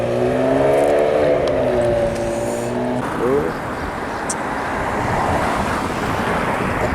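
A Porsche passes on a road, a rising and falling engine whoosh that sweeps through, followed by broad wind-like road roar. Faint voices sound early on.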